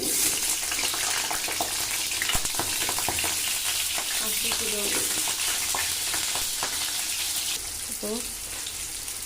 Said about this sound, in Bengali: এবার আলুটাকে এখন ভেজে নেওয়া হবে